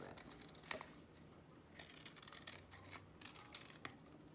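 Scissors snip through folded paper while cutting out shapes for an owl craft, giving a few faint, crisp clicks and slicing rustles spaced unevenly, close by in a quiet room.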